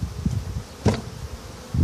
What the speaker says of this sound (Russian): Рой, друзья, у нас ловлен.